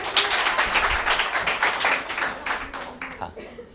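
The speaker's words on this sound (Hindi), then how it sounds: "ताली बजा दे, बजा दे, बजाओ बजाओ" Students clapping in a classroom, a lively burst of many hands beating in loose, uneven rhythm, close and fairly loud, thinning out toward the end.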